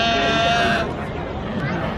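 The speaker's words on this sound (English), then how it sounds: "now all I can hear is sheep" Sheep bleating amid a noisy crowd at the Royal Highland Show agricultural fair in Edinburgh, with steady chatter and voices throughout.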